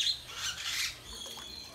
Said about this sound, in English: Who's over there chirping so loud?